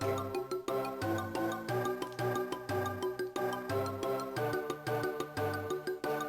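Bouncy, upbeat chiptune-style Game Boy Advance platformer music with a steady bass line and bright looping melody, playing continuously at moderate volume.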